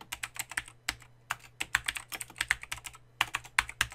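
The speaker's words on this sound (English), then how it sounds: "now as I press tab on the keyboard" Keys clatter on a computer keyboard with quick bursts of close, crisp taps broken by short pauses, including presses of the tab key, with no voice.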